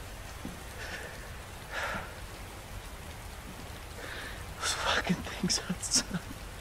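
Indoor rain patters steadily inside a room in the video game Resident Evil 2, a soft continuous hiss with a few louder drips and splashes near the end, under low voices.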